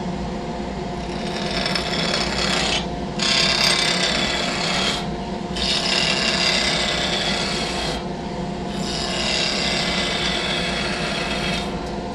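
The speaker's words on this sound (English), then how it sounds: "When I'm performing the planing cut, I'm going from larger diameter to smaller diameter." A skew chisel shaves a wood blank spinning on a lathe in a planing cut, giving a continuous close, dry rasping hiss broken by a few brief pauses as the tool lifts off.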